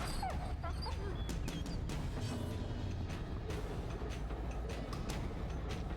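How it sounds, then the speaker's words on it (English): A dog in a video game barks and whimpers in short yips and whines over a constant rumbling background with distant thunder, the calls scattered and fairly near. "Dogs are useless and literally the worst possible pets, confirmed."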